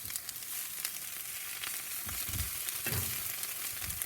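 Butter sizzling on a soapstone slab over a Big Joe grill, a steady close crackle with soft spatter and a couple of low thumps, no voices.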